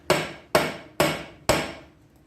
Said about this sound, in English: So I'm just gonna hammer on this because I don't care.